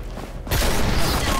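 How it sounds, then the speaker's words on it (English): A loud sawed-off shotgun blast in The Walking Dead game, one sudden booming shot that cuts in after a quieter stretch and rings into a broad, noisy wash with no talking. "That sawed-off shotgun only has two shots, and that's the fourth shot right there."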